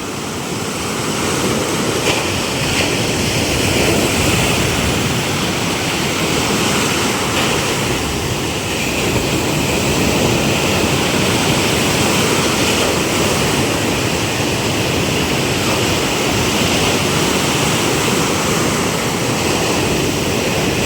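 Heavy surf pounding against a seaside resort's fence, a continuous loud roar of breaking water with spray and wind noise, steady throughout with no voices.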